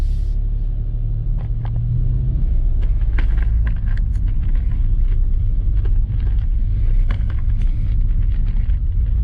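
A Hyundai Casper with a 1.0-litre engine accelerates uphill, giving a low, continuous engine rumble and road drone with occasional light clicks and knocks from inside the cabin.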